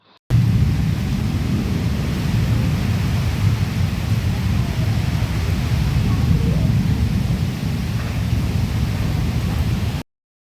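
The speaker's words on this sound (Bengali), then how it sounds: "কিছুক্ষণ পরেই কিন্তু বৃষ্টি হলো তুমুল পরিমাণে।" Heavy rain pours steadily during a windy storm, a dense, continuous roar of broadband noise with deep rumbling low end that holds at a constant loud level throughout.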